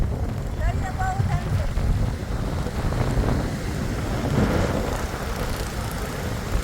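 Strong wind buffets the microphone at the seashore at Madhupur, with waves rushing in underneath and a person talking over the gusts.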